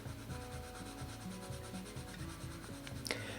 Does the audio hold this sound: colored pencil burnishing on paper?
yes